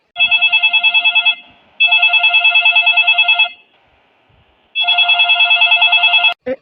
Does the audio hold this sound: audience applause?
no